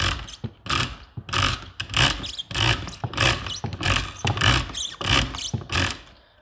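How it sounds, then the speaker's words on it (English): Ratcheting, buzzing clicks from the detent of a Winchester Model 1911 stock cap as it is unscrewed with a tool, coming in a series of loud, close bursts with short pauses between them. "And that noise you can hear, that brr, brr, there is a detent in the stock"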